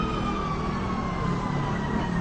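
Fire truck siren arriving at a blaze in the Parola compound, Tondo, Manila, a steady wail sitting over loud broadband crowd and street noise, fairly distant and continuous.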